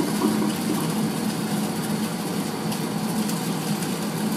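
A 1980s Tefal Spinmaster spin dryer spins a load of towels with a steady, dense whirring drone and low rumble, constant and close with no speech.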